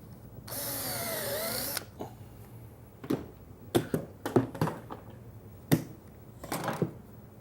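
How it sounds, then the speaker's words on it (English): Drilling shelf pin holes in base cabinet sides with a Vix self-centering drill bit: one loud whirring drill burst of about a second, then a series of close knocks and clicks as the bit and collar are handled. "Now I'm using a Vicks bit, just a brand name, but this is a self-centering bit."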